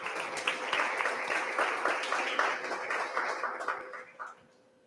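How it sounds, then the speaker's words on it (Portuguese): A church congregation applauds during a worship service, with dense, sustained clapping from a crowd that fades out toward the end. "Mais uma vez aplaudamos o Rei."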